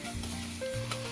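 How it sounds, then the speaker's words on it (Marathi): Onion and tomatoes with spices sizzle while being stirred and sautéed in a pressure cooker, a steady close frying hiss with a few soft stirring scrapes, no talk. "टोमॅटो घातले आणि परतून घेतले"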